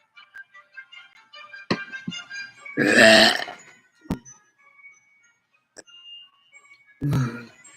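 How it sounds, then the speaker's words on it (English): One loud, long burp stands out clearly, with faint taps and small clicks before it and a brief knock after. "That was a good burps there."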